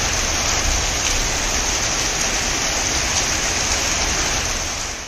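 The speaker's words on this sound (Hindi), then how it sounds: "बारिश लगातार हो रही, बेंगलुरु की झीलें भी भरने के कगार पर।" Heavy, continuous rain pours down in Bengaluru as a steady, dense hiss that stays loud and unbroken throughout, with no voices.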